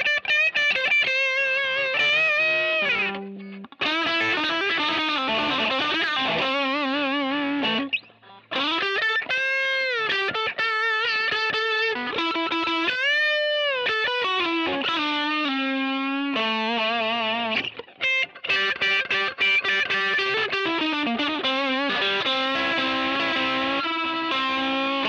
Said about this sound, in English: When you add some distortion,